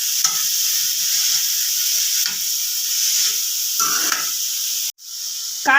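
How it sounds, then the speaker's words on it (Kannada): Fresh green pigeon peas sizzle steadily in a hot frying pan while a utensil stirs and scrapes through them in short bursts, a close, continuous frying hiss with no talking. "ಇವಾಗ ಇದಕ್ಕೇನೆ ಕಾಳು ಹಾಕಂತ ಇದ್ದೀನಿ. ಸ್ವಲ್ಪ ಚೆನ್ನಾಗಿ ಮಿಕ್ಸ್ ಮಾಡ್ಕೊಳ್ಳೋಣ."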